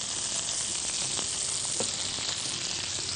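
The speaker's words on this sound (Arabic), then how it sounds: "البصل هنا اللي بيحصل له انه بيتشوح بياخد كل البواقي" Onions sauté in a pan with tomatoes and meat, giving a steady close sizzle with scattered crackles and faint stirring scrapes throughout, no voices.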